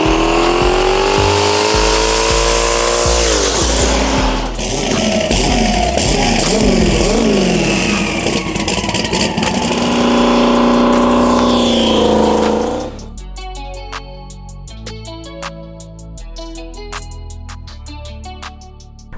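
A 1,200 horsepower turbocharged Trans Am with a built 388 cubic inch LS engine on Holley EFI roars loud and close, revving hard through rising pulls before cutting to a lumpy, popping idle.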